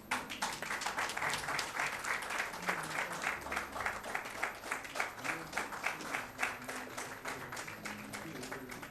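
An audience at a Kannada comedy show claps steadily for the full stretch. The dense applause is loud and sustained, with no talking over it.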